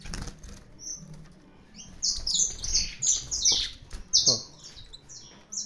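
Brazilian saffron finches (canário da terra) loose and agitated in a breeding aviary chirp in sharp, bright bursts alongside fluttering wingbeats, close to the microphone, with a man's brief spoken interjection.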